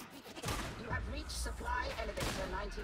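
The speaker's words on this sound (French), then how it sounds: "Je fais le taf du sniper avec mon petit pistolet, vous m'en voudrez pas." Pistol shots crack amid a busy firefight in the game Warhammer 40k Darktide, sharp reports scattered over a dense, noisy mix with a voice talking underneath.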